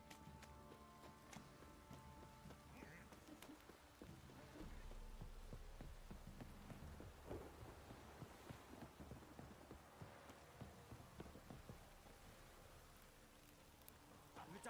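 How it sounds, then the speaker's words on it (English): Heavy rain pours down in The Witcher 3, a steady hiss of downpour with scattered drops and soft thuds, moderately loud and continuous with faint voices underneath. "This downpour's a bastard, it is."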